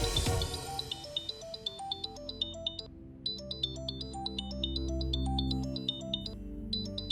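A melodic phone ringtone plays loud and clear, its bright chiming pattern repeating with a short pause partway through.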